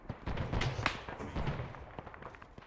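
Frag grenade explosions in a military video game set at the Battle of Long Tan, a cluster of several dull thumping blasts in quick succession that fade into scattered smaller pops, moderately loud with no talk.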